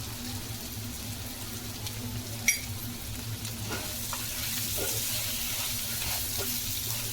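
Mutton fry sizzling steadily in a pan as kasuri methi is added and stirred, a continuous close frying hiss over a low hum, with one brief sharp clink partway through and a few soft scraping stirs.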